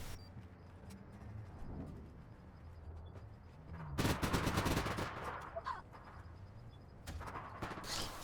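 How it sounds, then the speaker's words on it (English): Gunfire from an open street fight in APB Reloaded rattles out in a loud burst of rapid shots midway, with scattered distant shots before and after over a steady ambient hum. "you can see that guy shooting there on the streets in the open"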